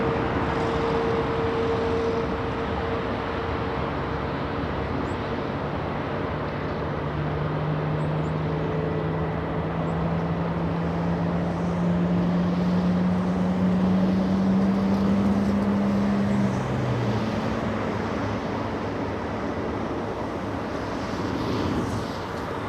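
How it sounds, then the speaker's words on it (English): A Qatar Airways airliner's engines spool up at LAX, a steady roar with slowly rising whine tones, heard from a distance with no talking. "Engines are starting up."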